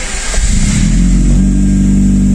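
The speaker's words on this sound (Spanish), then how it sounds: "Prende en frío, estamos totalmente frío en la mañana, vamos a ver." A Hyundai Genesis car engine cold-starts on a cold morning, cranking and catching, then settling into a loud, steady close-up rev.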